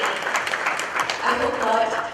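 A crowd at a Canon camera launch event claps for a sales director taking the stage, a short burst of fairly steady applause with some voices mixed underneath.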